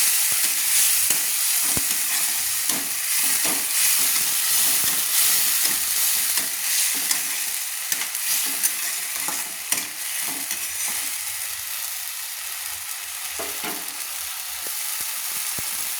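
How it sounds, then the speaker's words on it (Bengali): Ginger-garlic paste fries in a pan with a strong continuous hiss, while a utensil stirs it with repeated scraping strokes, busier at first and then calmer. "দিয়ে দিলাম আদা আর রসুন যে পেস্ট করে রেখেছিলাম, সেটা আমি দিয়ে দিলাম। দিয়ে ভালো করে নেড়ে নিচ্ছি।"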